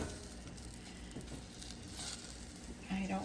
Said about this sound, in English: I'm going to place the butter in to melt.